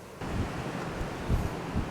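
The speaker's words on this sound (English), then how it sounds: "It's so windy and spooky." Steady wind buffets the microphone with low rumbling gusts, rising in a few stronger bursts, and no one speaks.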